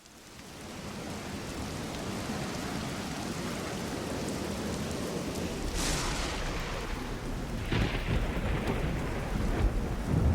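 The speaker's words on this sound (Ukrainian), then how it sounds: "А що зараз ви почули? Так, дітки, це гроза." A steady wash of heavy rain with rumbling thunder building and cracking through the storm, loud and continuous with no voices.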